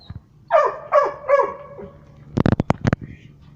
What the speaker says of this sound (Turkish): Köpek de bir anda bağırdı.